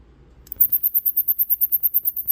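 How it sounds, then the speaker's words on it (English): Rapid, steady high-pitched electronic clicking from a Mouseblocker rodent repeller, pulsing evenly about six times a second, starting abruptly and continuing alone. "Okay, that's more of like a clicking."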